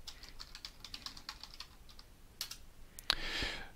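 Close, moderately quiet typing on a computer keyboard, a run of quick clicks, then a pause and a firmer keystroke like Enter, followed by a brief hiss.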